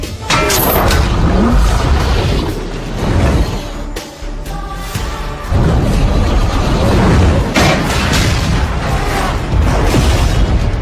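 A loud, roaring gas cylinder blast with heavy rumbling aircraft debris fills the scene, swelling and dipping briefly before surging again.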